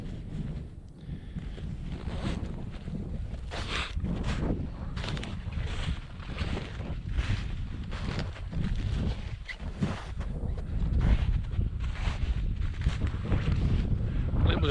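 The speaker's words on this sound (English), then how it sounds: "Oh, there's a little bit of wind here." Wind buffets the microphone outdoors on a forest nature walk, a loud continuous low rumble with gusty surges throughout and occasional faint rustles.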